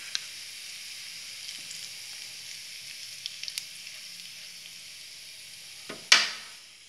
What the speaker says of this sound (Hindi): हमने कबाब फ्राई किया था उसी ऑयल में 1/2 टीस्पून जीरा है,